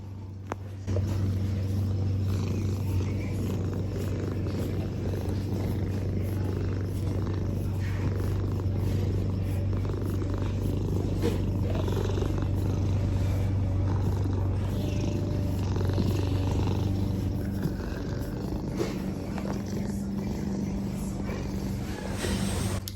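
Simba the cat purrs close and steady, a low continuous rumbling drone that runs almost unbroken for the whole stretch, faint but amplified.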